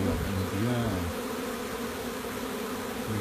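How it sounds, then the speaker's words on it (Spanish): Dense, steady buzzing of many honey bees swarming close together at a hive, continuous and moderately loud. "Las abejas están trabajando"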